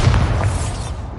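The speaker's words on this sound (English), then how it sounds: "Bombarda!" A deep, loud blast from the Bombarda explosion spell in Hogwarts Legacy, a booming burst that fills the whole moment and rumbles briefly.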